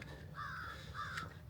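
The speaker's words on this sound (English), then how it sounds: "Lots of birds chirping." A crow caws twice in quick succession outdoors by a dam on Lake Taneycomo, the harsh calls fairly faint over a steady low background rumble.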